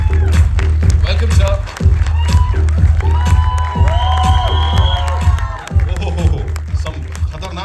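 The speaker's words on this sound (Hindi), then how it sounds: "जोरदार तालियां हो जाएं" Loud cheering, whoops and clapping from a packed crowd at the IB71 film trailer launch as actor Dilip Tahil is welcomed, a continuous roar that swells and dips while people talk over it.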